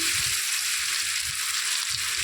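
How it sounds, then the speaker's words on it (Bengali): Mango pieces fry in a pan with salt and turmeric after mustard seeds and dried chilli, giving a steady, close hiss of oil sizzle with a few soft stirring scrapes. "নিয়ে এবার আমটাকে দিয়ে নুন হলুদ দিয়ে আমি ভাজা ভাজা করে নেব"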